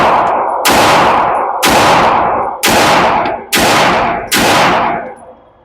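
Five loud gunshots from a WatchTower Apache firearm on an outdoor shooting range, each a sharp blast with a ringing tail, spaced about a second apart, close and alone.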